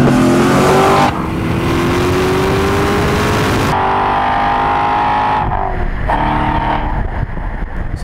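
A 2014 Chevrolet C7 Corvette Stingray's V8 engine roars and climbs in pitch as the car accelerates, loud and steady, then drops away with gear changes near the end.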